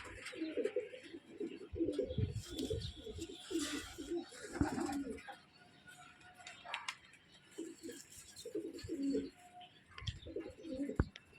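Giribaz pigeons cooing in a loft, bursts of low throaty coos in rhythmic phrases with a quieter pause midway, plus scattered chirps and rustling.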